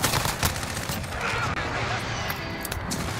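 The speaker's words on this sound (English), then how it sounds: "Allied precision airstrike incoming." Precision airstrike explosions in Call of Duty Modern Warfare, a dense, loud barrage of booming blasts and crackling gunfire, with voices faintly mixed in.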